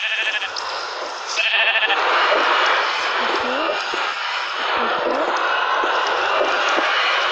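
Sheep bleats rise from a farm-animal video game, short wavering cries over a steady wash of game noise while a person talks throughout.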